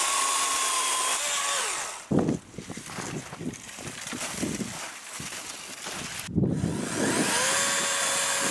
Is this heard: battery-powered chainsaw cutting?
yes